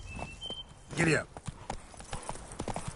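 Horse hooves clip-clopping in a quick gallop in The Witcher 3, a steady run of hoofbeats set against game ambience, with a brief louder whoosh partway through and a voice speaking over it.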